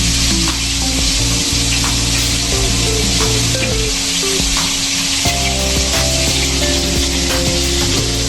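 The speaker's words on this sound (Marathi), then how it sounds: "ते करून आपण सगळे पॉपलेट फ्राय करून घेऊया." Whole pomfret fish fry in a pan over a slow flame, giving a steady, close, fairly loud sizzle that runs without a break from start to end.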